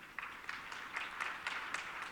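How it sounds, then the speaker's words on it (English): Audience applause from an everyday crowd at a public forum, people clapping hard in steady, dense bursts over about two seconds, moderately distant and filling the room. "very specific people clapping very hard"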